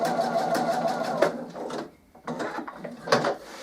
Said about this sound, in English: you're just sewing across the short edges